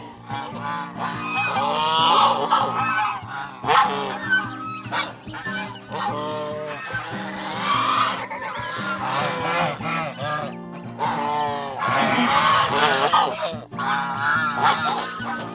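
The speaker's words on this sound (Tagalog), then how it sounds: "What's good about this is the other geese are protective of the new hatch." Flock of farm geese honking loudly and continuously around a newly hatched brood of goslings, overlapping calls rising and falling close by with no talking.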